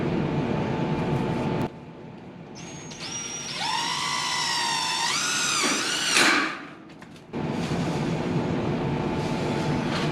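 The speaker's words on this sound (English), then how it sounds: "I'm going to put a little screw right in here." A screw being driven in while mounting solar equipment: a power driver whines with rising and falling pitch for a few seconds, close and loud, between stretches of quieter steady background noise.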